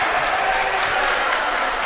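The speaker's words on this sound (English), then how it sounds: "The crowd is going crazy." A crowd at a high school varsity basketball game roars in a dense, continuous wall of cheering and clapping, loud and unbroken throughout.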